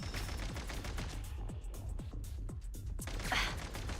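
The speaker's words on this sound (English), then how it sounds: "Why are my enemies shooting so much?" Enemies shooting in Genshin Impact's Snezhnaya region, a rapid string of evenly spaced shots like machine-gun fire, fairly steady and close, ending in a brighter whooshing impact.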